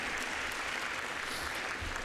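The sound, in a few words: audience applause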